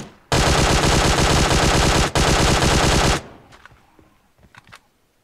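Automatic gunfire in PUBG Mobile on the Sanhok map: a loud, nearly continuous stream of rapid shots for about three seconds, then a sudden stop followed by faint scattered ambient clicks and rustles.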